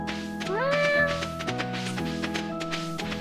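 A cat meowing in the farming game Stardew Valley: one clear rising meow over soft game background music, with a few light taps around it.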